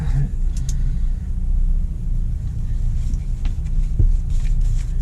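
A semi truck's diesel engine runs steadily, giving a deep, continuous rumble with a few faint higher clicks and knocks on top, no voices.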